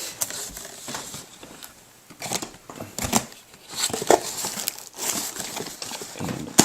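A sealed Hot Wheels Connect Cars factory case is cut open, giving close, irregular scrapes, snips and crinkly taps of cardboard and packaging, with brief knocks and rustles throughout.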